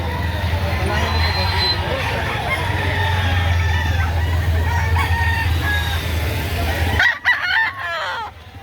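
Stag roosters (gamecocks) for sale at a Saturday poultry market in Lipa, Batangas crow and cluck amid a loud, steady crowd babble, with a couple of closer crows and clucks standing out at the end as the din drops away.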